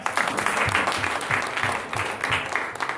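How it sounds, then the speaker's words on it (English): Meeting attendees applaud their vice chair, Marvin, at a legislative district reorganization gathering: a moderate, steady round of clapping lasting a few seconds, close and fairly dense, with no talk over it. "I would suggest people give him a round of applause."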